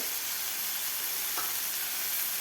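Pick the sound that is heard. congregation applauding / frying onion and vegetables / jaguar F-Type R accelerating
frying onion and vegetables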